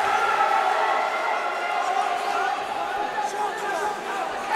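A crowd at an Adrenalin fight between Madsen and Tyrie roars in a steady, dense wash of cheering and chatter, loud and sustained, with commentary talk over it.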